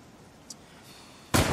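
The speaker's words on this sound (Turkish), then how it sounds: "Silah sesi miydi o?" A single loud, sharp gunshot cracks near the end of a quiet night scene in a Turkish TV drama, preceded by a faint small click.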